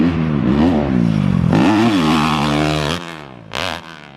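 A Yamaha YZ125 two-stroke dirt bike ridden on a track buzzes loudly and close, its revs climbing and falling in waves, dropping off briefly near the end before one last short burst.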